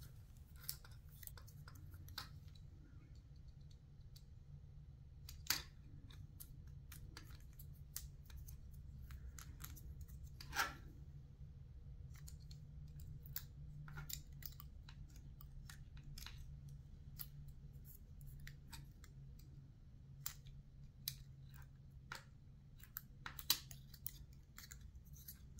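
Scissors snip foil tape while making a fishing lure, with sharp, irregular cuts and clicks scattered across a steady low hum, close and fairly faint, with no talking.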